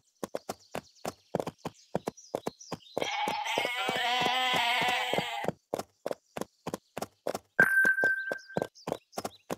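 In the Barbie Horse Adventures video game, young goats bleat in a wavering burst over steady, evenly spaced horse hoof clip-clops, followed by a short tonal chime near the end.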